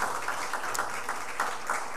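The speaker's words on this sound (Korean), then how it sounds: "다시 한번 감사의 박수하겠습니다" Congregation in a university chapel applauding a choir and string players, a brief, moderately loud burst of clapping with uneven swells and no voices.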